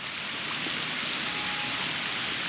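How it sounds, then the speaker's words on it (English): A water fountain in a city square in Palmas, Brazil, splashes in a steady, dense hiss of falling water, close and continuous with no voices. "there is this beautiful water fountain here as well."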